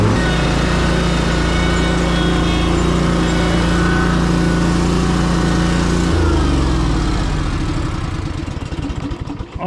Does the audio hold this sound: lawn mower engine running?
yes